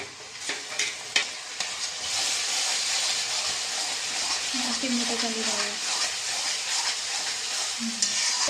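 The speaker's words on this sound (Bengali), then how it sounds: "কষা চলছে মাংসের মশলাটা কষা চলছে" Chicken sizzles and is stirred with a ground paste of onion, ginger, cumin, coriander, garlic and green and red chillies, a steady frying hiss broken by spoon scrapes, with a voice talking over it.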